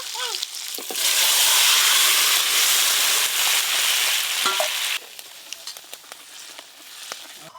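Loud, steady sizzling of food frying in a pan, broad hissing that drops off sharply partway through, leaving quieter crackles and small clinks.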